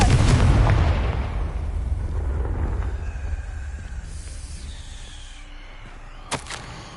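A Confringo fire spell explosion in Hogwarts Legacy: one heavy boom at the start that rumbles and fades over several seconds, followed later by a short sharp crack.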